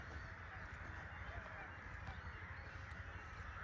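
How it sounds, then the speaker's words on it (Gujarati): Geese honk in a rough, repeated chorus around a rain-filled village pond. The calls are distant and faint over a low, steady background hum. "ઓહો, કેટલા બધા સરસ પક્ષી છે."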